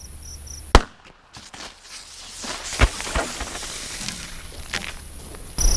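A single sharp shot from a Colt Model 1908 .25 ACP pistol loaded with Hornady Critical Defense 35-grain hollow points, fired at a 7-yard target outdoors, one loud crack early, then quieter rustling and ambient noise.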